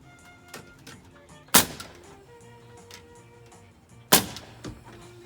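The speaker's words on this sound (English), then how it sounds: "And then he'll hand the nail gun to Derek, and he'll do it down at the top plate on the outside edge" A nail gun fires into the top plate of a wooden shed frame: two sharp, loud bangs about two and a half seconds apart, standing out over a quiet background with faint tonal sounds.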